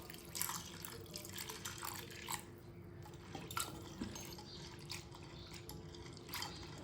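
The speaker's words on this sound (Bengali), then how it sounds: "এই ছোলার ডালটা আমরা 2-3 বার জল দিয়ে ধুয়ে নেব" Chana dal is rinsed in water in a bowl, a soft close splashing and swirling with faint drips and light clinks of the vessel.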